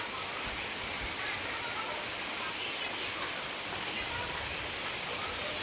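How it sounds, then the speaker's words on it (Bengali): Heavy rain in a sudden storm falls as a dense, even roar, steady and fairly quiet throughout with no breaks. "কি ঝড় বৃষ্টি হচ্ছে দেখো"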